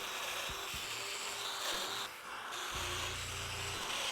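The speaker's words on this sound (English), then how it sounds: "once I had the correct bit in and the depth set appropriately, I was able to quickly bore out those mortises" A domino joiner bores mortises into wood cabinet parts, giving short bursts of low motor buzz and cutting against a constant hissing background, the last plunge lasting about a second, fairly quiet.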